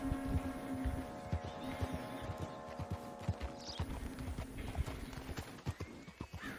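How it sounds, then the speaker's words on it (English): Hooves clip-clopping steadily from a stolen horse in the video game Red Dead Redemption 2, with a low engine-like hum beneath and a few louder hoof strikes toward the end. "This horse I stole is pathetic."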